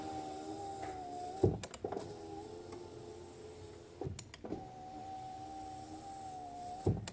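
Electric power window motor in a VW CrossFox whirs steadily as the glass moves, twice, each run ending in a sharp clunk as the window seats; no voices.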